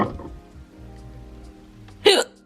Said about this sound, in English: Oh, I got hiccups too.